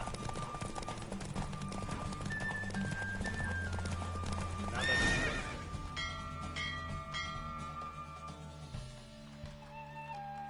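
Hooves clip-clop rhythmically as a horse gallops in Witcher 3, with a brief whinny midway and game music and chimes underneath, fairly faint overall.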